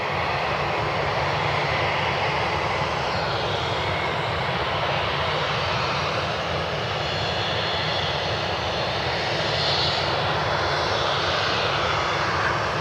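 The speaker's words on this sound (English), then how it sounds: "So we got a whole bunch of business jets inbound right now." Business jets arriving at Cleveland Hopkins airport produce a steady, loud engine roar that holds broad and even throughout, with a faint high whine rising briefly partway through; no voices.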